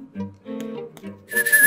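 A little kid whistles in the Rule of Rose game, giving a wavering, breathy tune in short halting phrases that is close and fairly clear, followed by a brighter, noisier burst at the end.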